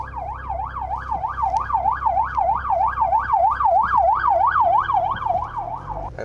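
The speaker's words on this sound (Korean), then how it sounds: "결국엔 구급차가 지나가는." An ambulance siren wails in a steady, rapid up-and-down cycle that carries loud and continuous over a low rumble of traffic, with no voices.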